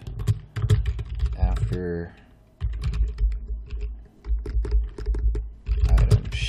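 Rapid clicking of computer keyboard keys in several bursts, close and crisp, with someone talking between and over the typing.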